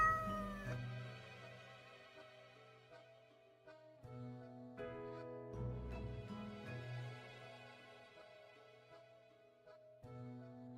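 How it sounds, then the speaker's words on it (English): An annoyed, irritated cat in the video game Death and Taxes meows alongside a sustained musical game soundtrack, its calls blending into tonal layers that carry steadily through the scene without any talk. "the cat paces around on the table as if annoyed and irritated"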